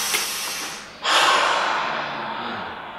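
A deep breath taken during a group breathing exercise: a hissing exhale fades out, then a sharp loud inhale swells in and slowly tapers off, close and alone.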